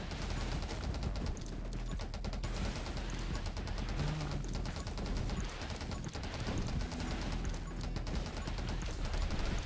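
Rapid video-game gunfire from Lurker enemies in 20 Minutes Till Dawn, with dense bursts of shots crackling over game music, loud and nearly continuous throughout.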